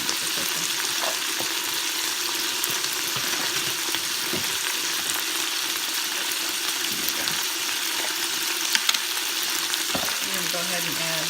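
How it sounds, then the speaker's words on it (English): Beef chunks browning in a Carey pressure cooker, the meat still partly frozen with ice in the middle, give a steady close sizzle and hiss with occasional stirring scrapes. "Now the meat could just be browning"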